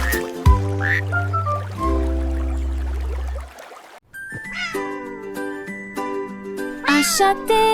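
A cat meows several times in a French children's nursery song, rising and falling cries set among bright sung and instrumental tones, close and fairly loud, with a brief lull midway.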